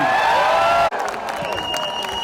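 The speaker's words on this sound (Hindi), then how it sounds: "जोरदार तालियों से प्लीज वेलकम सनी देओल" A live audience breaks into applause and cheering to welcome actor Sunny Deol on stage at the Border 2 song launch in Jaisalmer, Rajasthan. A sustained musical tone ends abruptly, and a dense burst of clapping follows and continues steadily.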